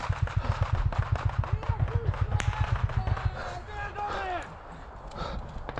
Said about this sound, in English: The group is moving forward a little bit and continuing to fire.